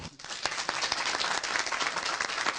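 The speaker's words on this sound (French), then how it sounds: "Applaudissez." A crowd applauds for the top student at a school event in Ségou, Mali, a dense burst of close, steady clapping throughout.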